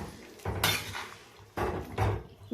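A spoon stirs chicken pulao in a metal cooking pot, making a few sharp clanks and scrapes against the pot's sides in separate bursts over a quiet background.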